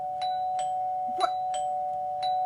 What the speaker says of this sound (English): It was a doorbell.